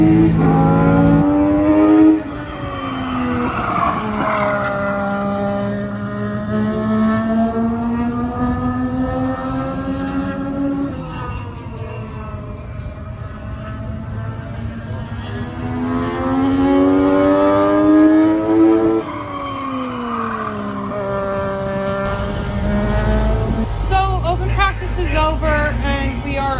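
Race cars circle a speedway track during open practice, engines rising and falling as they pass in repeated waves, loud and continuous, with a voice talking over the roar.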